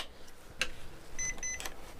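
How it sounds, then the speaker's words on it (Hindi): A Sunshine DT-20N touch multimeter emits short electronic beeps right after two AA batteries go in, a couple of faint tonal bleeps amid light handling noise. "यहाँ पर बैटरी लगाते ही यहाँ पर बीप मारना स्टार्ट कर दिया"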